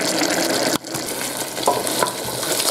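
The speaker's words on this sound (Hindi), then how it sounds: "चिकन को अच्छी तरह से भून लेंगे इसी मसाले में" Chicken pieces frying in a spice masala pan, a steady close sizzle with scraping stirs throughout, briefly cutting out for a moment before the crackle resumes.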